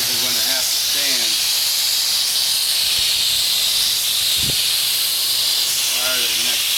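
A spray gun lays Black Widow Pettit bottom paint onto a boat hull, a loud, unbroken hiss throughout with faint voices underneath.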